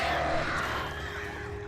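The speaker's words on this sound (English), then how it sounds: "Ugh, birds." Crows caw in the Alan Wake video game, harsh calls set within a steady, loud wash of ambient game noise that continues throughout.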